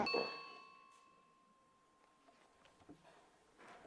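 A bright notification bell ding at the start, ringing clearly and fading over about a second, followed by faint soft clicks and near-silence, then a small burst near the end.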